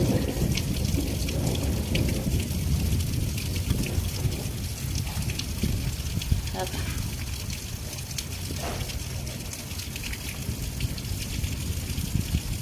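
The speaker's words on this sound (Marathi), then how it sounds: "एवढा पाऊस झाला जबर" Heavy monsoon rain pours down steadily, a dense continuous roar of drops drumming on surfaces, loud and close with no voices.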